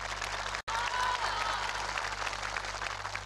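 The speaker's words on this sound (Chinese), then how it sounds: "我们先用热烈掌声欢迎一下杨敏好不好？" A studio audience at a CCTV Spring Festival television special applauds to welcome a returning contestant, a continuous wash of clapping at an even level that briefly cuts out near the start.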